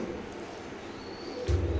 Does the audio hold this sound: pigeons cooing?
yes